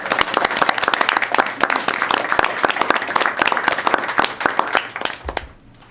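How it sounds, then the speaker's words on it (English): Staff and attendees at a school board meeting give a brisk round of applause, close and loud, with dense clapping that dies away abruptly at the end. "Quick round of applause for all of those staff."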